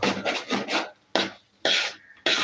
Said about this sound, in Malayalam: നമ്മൾ തേങ്ങാപ്പാൽ ഒഴിച്ചു കൊടുത്ത് നന്നായിട്ടൊന്ന് ഇളക്കി കൊടുക്കണേ